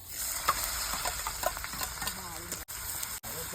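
Garlic and onion fry in a pan, making a quiet, continuous sizzle with occasional stirring clicks and scrapes.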